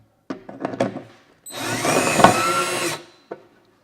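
A power drill driving screws into a wardrobe closet during assembly, a steady whirring burst of about a second and a half between short knocks and clicks of handling, close and fairly loud.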